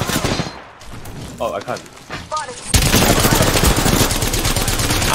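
Video game gunfire aimed at the player: after a quieter stretch with short speech, dense sustained automatic fire bursts in loudly at about the midpoint and keeps rattling to the end, close and continuous.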